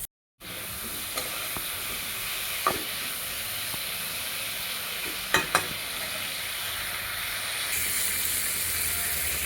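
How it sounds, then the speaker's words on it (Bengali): Cauliflower frying in oil with salt and turmeric sizzles as a steady, loud hiss throughout, broken by a few sharp clicks of a utensil against the pan, with no talking. "নুন হলুদ দিয়ে এটা এখন আমি ভাজতে দেবো ভালো করে ভাজা ভাজা করে নেবো"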